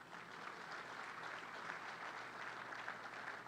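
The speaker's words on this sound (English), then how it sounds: "That's good for a round of applause right there." A round of applause from the audience at a topping off ceremony for the Cleveland Clinic Global Peak Performance Center, with steady, sustained clapping from a crowd that holds at an even, moderately distant level.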